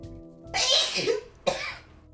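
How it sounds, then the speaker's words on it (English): Two sharp bursts of a person sneezing, a long explosive one followed about a second later by a shorter second burst, close and fairly loud with no talk over it. "Goodness, bless you."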